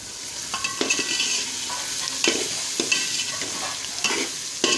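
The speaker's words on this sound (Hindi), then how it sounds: "अब मैं डालूंगी यहाँ पे प्याज डाल दूंगी" Onions sizzle in a pan with garlic paste for spicy street-style chicken chow mein, a steady frying hiss broken by scraping, clinking stirs, close and alone without talk.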